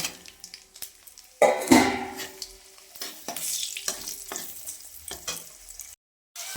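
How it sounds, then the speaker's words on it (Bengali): Cumin seeds frying in hot oil with a crackling sizzle, broken by scraping stirs and bursts of spattering, then a brief silence near the end. "ওই তেলেই একটু জিরে ফোড়ন দিয়ে দিলাম, ভেজে নেব।"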